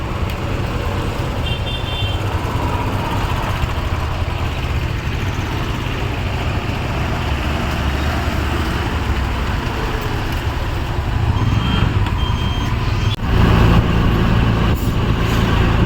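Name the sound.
car driving along a road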